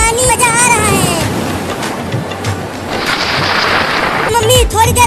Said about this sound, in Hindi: देखो कितनी तेज बारिश हो रही है और बिजली भी गिर रही है